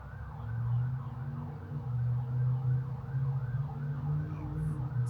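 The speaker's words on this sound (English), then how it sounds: "It's rush hour here in my town, so I hear some sirens." Emergency vehicle sirens wail at rush hour in a town, distant and faint, cycling steadily up and down over a low traffic rumble.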